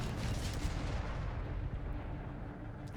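Grenade blasts amid a nonstop wartime barrage in Company of Heroes 3, Afrika Korps against US Forces: dense, loud rumbling booms and gunfire roll together for the whole stretch without a pause.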